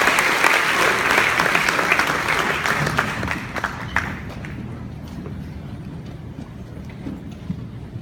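A church congregation claps loudly together in dense, sustained applause that gradually thins and fades to scattered claps, with some crowd murmur underneath.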